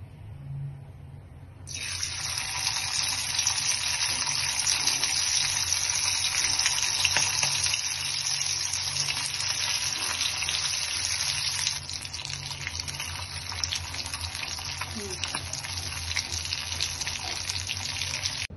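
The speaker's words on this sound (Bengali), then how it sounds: "তো এখন আমরা এই জিনিসটাকেই হচ্ছে আপনার তেলে ভাজবো।" Chittagong-style meat kebab fries in hot oil, a loud, steady sizzling hiss that starts abruptly and continues unbroken, close and alone with no talk.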